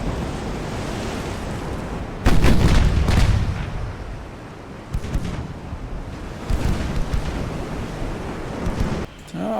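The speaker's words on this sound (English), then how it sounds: "Our brave little scout cruiser is going in guns blazing" Warship naval gunfire and exploding shells in the Ultimate Admiral Dreadnoughts game, with a heavy booming blast followed by rumbling, surf-like roar and several more thudding salvos at irregular intervals, loud and without talk.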